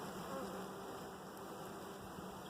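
Agitated honeybees swarm around an opened hive during a split, a dense, continuous buzzing drone close by, steady and unbroken for the whole stretch.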